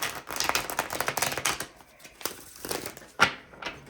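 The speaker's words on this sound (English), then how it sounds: "It's not just this shuffle of cards." Tarot cards being shuffled by hand during a reading, a run of dense papery riffles and crinkly flutters followed by a pause and a few sharper single snaps, close and fairly quiet.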